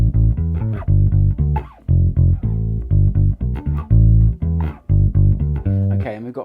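Electric bass plays four bars of a song, moving through major triads and root-fifth-octave patterns in steady, loud, close note runs with short gaps between phrases and no talking.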